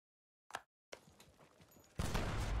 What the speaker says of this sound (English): I like that cannon sound,